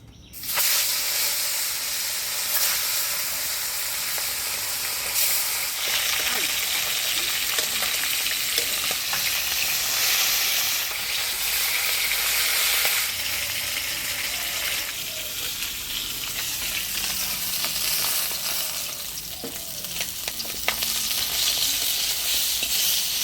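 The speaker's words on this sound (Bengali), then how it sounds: "তেল গরম হয়ে গেছে এবার মাছগুলো ভাজি নেব" Turmeric-and-salt-coated bhola fish fries in hot oil in a wok, giving a loud, steady sizzle and hiss that runs unbroken throughout with occasional stirring, and no voices.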